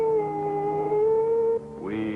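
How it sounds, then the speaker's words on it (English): A dog howls in long, sustained mournful tones, loud and close, with the pitch breaking upward near the end, set in a Western canyon scene. "Can't you make that dog shut up?"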